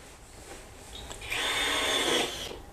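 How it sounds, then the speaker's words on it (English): A power drill drives a screw fixing a planer base onto a wooden box, a short rising whir that holds for about a second near the microphone before cutting off. "And screwing it onto the box."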